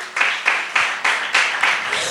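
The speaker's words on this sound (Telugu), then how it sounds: "మన మధ్యలో నుండి చప్పట్లు కొట్టండి." A church congregation at a Sunday sermon clapping in unison, with sharp, even, rhythmic claps about every quarter second, loud and close, and a voice faintly underneath.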